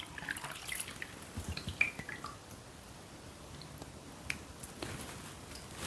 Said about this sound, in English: Wash your hands with warm water and soap.